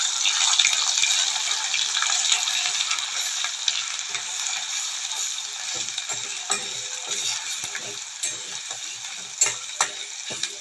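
Wet ground masala paste frying in hot oil for chole, a steady close sizzle with constant stirring and scraping throughout, no talking.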